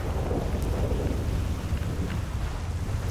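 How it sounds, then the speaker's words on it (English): Rolling thunder in GTA 5 Online, a deep, sustained rumble mixed with rain noise that stays loud and continuous for the whole stretch, with no voices. "Ooh, thunder. Lightning."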